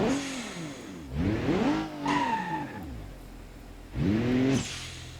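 A turbocharged ETK i-Series car in BeamNG.drive revs in several rising and falling engine swells, each climbing in pitch then dropping, with a whistling turbo spool over the middle burst and quieter gaps between.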